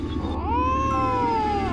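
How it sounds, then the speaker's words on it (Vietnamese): A cat meows once in a long, drawn-out, wavering cry that slides upward and then holds steady, close and clear, with no talk over it. "Chắc con mèo thôi."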